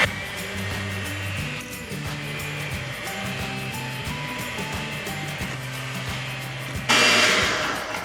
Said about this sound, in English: let's beat the sugar and the butter until it becomes very light and